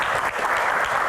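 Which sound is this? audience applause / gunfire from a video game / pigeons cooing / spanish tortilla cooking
audience applause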